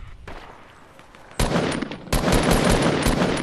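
Rapid automatic gunfire from a shooter video game, with bursts kicking in sharply and loudly, then sustained dense firing with repeated short cracks close up.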